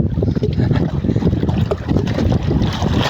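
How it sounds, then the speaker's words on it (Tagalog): Strong monsoon wind at sea buffets a small fishing boat out for crabs on rough, wavy water, a constant roaring rumble with wind gusts and water splashing, close and loud throughout with no speech. "Medyo malakas yung habagat ngayon. Medyo malalaki yung mga alon."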